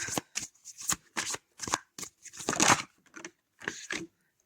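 Tarot cards are shuffled for a reading, giving a crisp run of riffling, fluttering bursts that are close and fairly quiet, with no talk over them.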